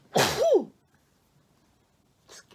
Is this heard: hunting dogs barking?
no